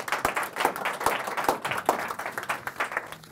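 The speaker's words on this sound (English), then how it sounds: "my assistant, a big round of applause" An audience at a magic show claps for the magician's assistant, a modest round of uneven hand claps that swells and fades, fairly near and with no talking.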